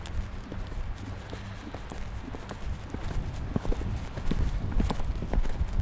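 Horse hooves clip-clopping on an arena surface during a riding lesson, a steady rhythmic series of soft thuds at moderate distance, growing slightly louder toward the end, with no talking.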